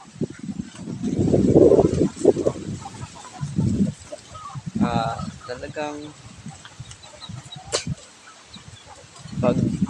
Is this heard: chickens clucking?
yes